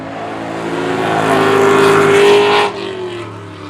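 A silver V8 Corvette drift car on a grassroots track roars loudly and close, its engine note climbing steadily under hard revs before cutting off sharply, with a lower rumble lingering after.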